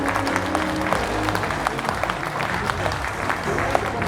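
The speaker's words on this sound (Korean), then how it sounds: "먼 길 와주신 외빈분들께도 뜨거운 박수가 쏟아지고 있습니다" Audience applause for visiting guests at a book concert, steady clapping filling the room, with a voice talking over it.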